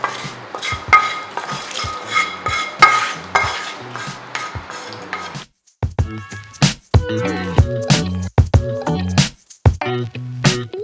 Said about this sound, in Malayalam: ഇനി നമുക്ക് ഇതിലേക്ക് നമ്മുടെ താളിപ്പ് ചേർത്ത് കൊടുക്കാം